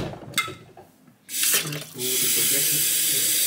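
Tap water runs into a container in a home kitchen, starting with a few clinks and brief splashes, then a strong steady rush of flowing water that fills the rest.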